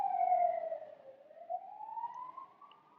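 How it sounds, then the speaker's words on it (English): An emergency siren wails outside, its tone sliding down then rising again as it passes at a moderate distance, heard alone without speech. "Sorry, I'm waiting for that siren to pass."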